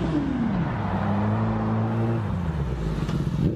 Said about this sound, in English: Look at this S4 coming in, though. Thing is loud, bro.